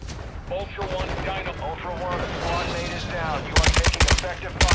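Gunfire in Call of Duty Modern Warfare II DMZ, a muffled stream of shots under game radio chatter, then a loud close burst of rapid automatic fire near the end.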